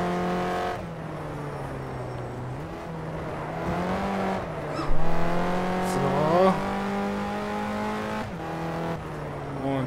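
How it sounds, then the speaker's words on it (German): A BMW M6 race car in the rFactor racing game downshifts to second gear, its engine note rising and falling with harmonic whine and revs dropping through the gears, while someone talks throughout. "Hier in den zweiten Gang runter."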